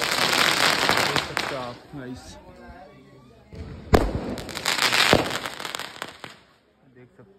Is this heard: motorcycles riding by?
no